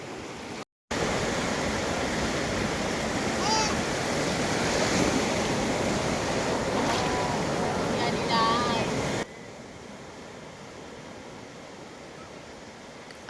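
Sea waves wash onto Udupi beach in a steady, loud roar of surf mixed with wind, which drops to a quieter wash for the final few seconds.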